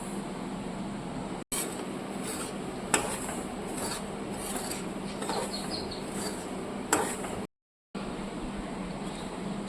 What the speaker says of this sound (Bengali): শুকনো কড়াইতে সুজিটা হালকাভাবে ভেজে নেব